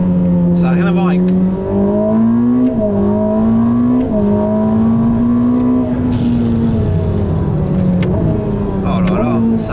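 Ferrari SF90 Stradale hybrid hypercar, roughly 1000 hp, accelerating at full throttle, a loud sustained engine drone rising in pitch with brief shifts, someone talking excitedly over it throughout.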